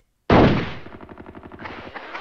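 A sudden loud gunshot blast bursts out of silence in the Hogs of War video game, followed by a rapid rattling tail of repeated cracks that fades slightly.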